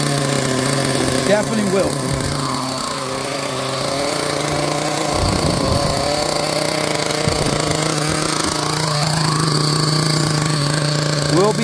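The brand-new nitro engine of a Team Associated MGT RC truck runs close by with a loud, buzzy, steady whine that rises and dips in revs, and someone speaks briefly over it.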